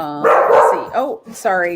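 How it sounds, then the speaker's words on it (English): A pet dog barks loudly and close by in a house, mixed in with a person who is speaking. "that's my dog."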